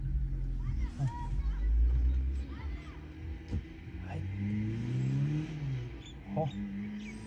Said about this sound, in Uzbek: Yaxshi yurar ekan mashinalar